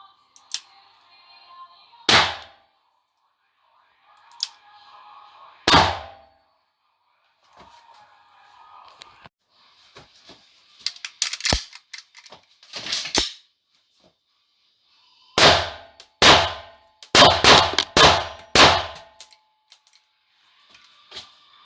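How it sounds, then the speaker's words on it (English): Blank pistol shots fired outdoors in a test: single loud sharp cracks spaced apart early on, then rapid bursts of several shots in quick succession, with faint background noise between. "So you saw how realistic blank pistols can look like when a burglar, looter, or attacker hears those shots."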